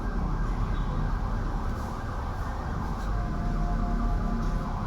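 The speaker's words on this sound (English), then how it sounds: "there's a big siren coming" An emergency vehicle siren passes by with a steady, continuous wail. It stays fairly loud and constant over broad traffic-like noise, with no talking.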